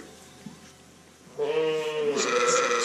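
A ewe with newborn lambs bleats, close by and fairly quiet. A faint nasal call is followed by a longer, louder wavering bleat that fills the last half of the moment.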